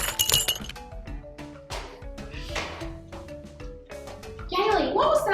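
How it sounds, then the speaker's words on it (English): A ceramic vase breaking indoors, with a sharp crash and clinking glassy shards, mixed among children's voices and a busy musical background. "My vase! My favorite vase! Someone broke it!"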